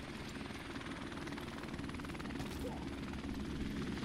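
Steady, continuous rotor thrum of a helicopter in Call of Duty 4 Remastered, filling the background as a broad, constant roar without pause.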